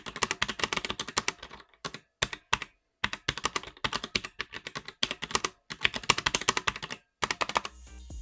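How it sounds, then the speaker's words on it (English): Someone types on a Roccat Vulcan Aimo 122 keyboard in rapid bursts of crisp, close key clicks, broken by short pauses between runs of keystrokes. "this is what the Vulcan Aimo 122 sounds like"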